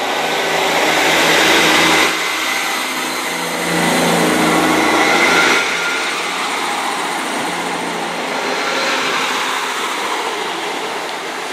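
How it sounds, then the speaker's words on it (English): A Class 158 First Great Western diesel unit pulls away from the station, a steady broad roar with engine drone that swells and eases in waves, loud and close throughout, with no voices. "This is the departure of the Class 158 First Great Western service from"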